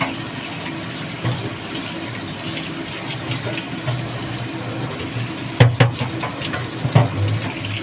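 Boiled water being poured out of a pot, a continuous close rush and splash of flowing water with a few louder gushes near the end, no talking.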